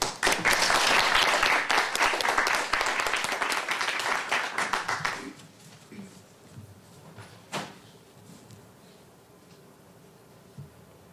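Audience applause welcoming a speaker at a panel talk, a dense burst of clapping for about five seconds that thins out and fades, followed by quiet room noise and a few shuffles.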